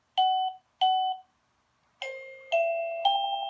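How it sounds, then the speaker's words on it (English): A doorbell chime cycling through electronic tones: two short identical beeps, a pause, then three longer stepped ding tones ringing clearly in a quiet room. "This is the new tone for your pushing bell."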